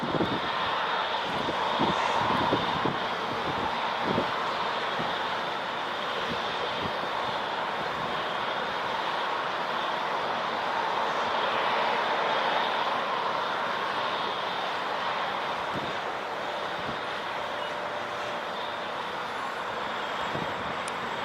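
A jet airliner takes off down the runway center line at San Diego International, a sustained loud engine roar with a few low thumps and rumbles early on, steady and alone without voices.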